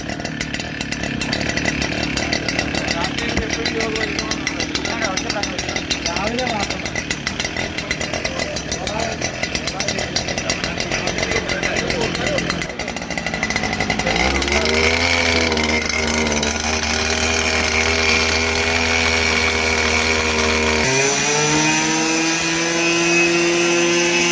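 Small petrol engine on farm equipment, started with the choke at a machinery training session, running loudly and close as a steady buzzing drone. The engine note shifts twice as it settles, and voices talk over it.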